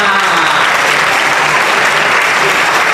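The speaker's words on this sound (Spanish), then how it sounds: "Un aplauso para Adriana" Loud, dense audience applause at a Cificom 2016 costume contest, a sustained even roar of many hands clapping that fills the space from start to finish.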